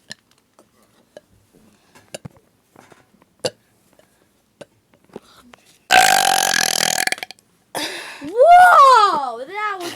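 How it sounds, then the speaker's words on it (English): A very loud, long burp from a person in a burping challenge, rolling and rising in pitch for about two seconds after a harsh rasping blast, following a stretch of quiet clicks and small noises. "That was the biggest burp out of them all."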